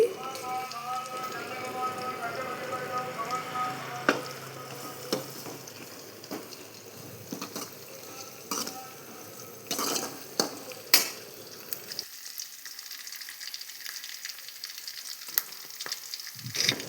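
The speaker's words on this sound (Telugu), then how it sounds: "ఇప్పుడు ఇందులోని నాలుగు రెబ్బల కరివేపాకును కూడా వేసి ఫ్రై చేయండి" Curry leaves and green chillies frying in oil in a pan, a soft steady sizzle with occasional crackles and utensil clinks, fairly faint, with no talking.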